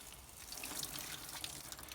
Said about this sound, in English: a little bit of watering can technique, start it off, get a nice shower going and just over the top